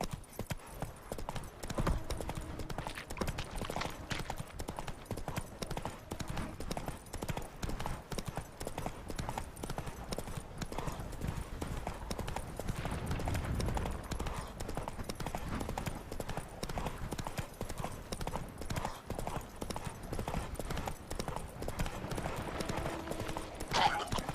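Roach, the horse in The Witcher 3, trots with steady rhythmic hoofbeats over a continuous ambient bed, close and persistent throughout.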